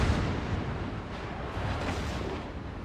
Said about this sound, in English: Nice 40k salvo right there.